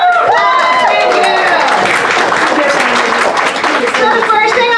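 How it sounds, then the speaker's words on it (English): An audience claps and cheers at a retirement party, a dense burst of applause filling the room close and loud, with voices calling out over it. "Give yourself a round of applause."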